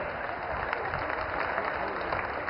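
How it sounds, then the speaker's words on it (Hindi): Audience applause greeting dignitaries on stage at a government development event in Silvassa, a steady, dense clapping wash that holds at an even level throughout with no voices over it. "तालियों की गूंज के साथ एक बार फिर हम स्वागत करें"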